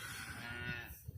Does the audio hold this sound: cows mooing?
yes